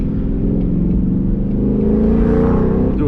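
A car revving hard under acceleration, a loud close engine note climbing steadily in pitch through a full-throttle pull, heard from inside the car.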